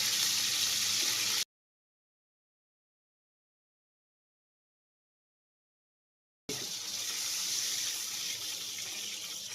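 Water pours into wheat flour for a spicy handvo batter, a bright steady splashing stream that cuts off to silence for several seconds and then resumes just as evenly.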